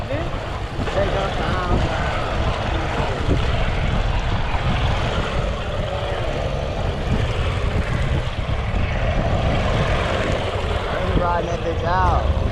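Honda ATV engine held on the throttle at a riding spot, a loud, steady, droning roar lasting the whole stretch with no letup, with voices talking faintly in the background.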